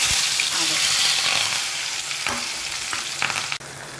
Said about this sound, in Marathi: मी घेतलेला आहे कांदा टोमॅटो आणि कढीपत्ता तो आता आपण तेलामध्ये टाकणार आहोत